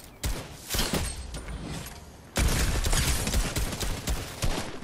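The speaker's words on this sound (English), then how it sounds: "Who's shooting someone?" Gunfire in the Fortnite Battle Royale video game: rapid, crackling volleys of shots, moderately loud, that grow denser and louder about halfway through, with no talking over them.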